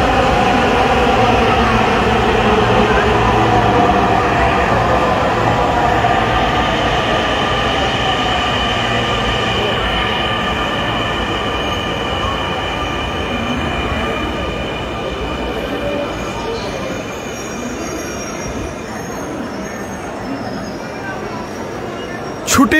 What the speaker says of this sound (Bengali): ছুটির দিন শুক্রবার মেট্রো রেলের এই ছুটে চলা।